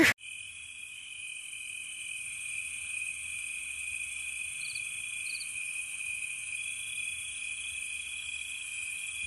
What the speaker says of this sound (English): Insert crickets here.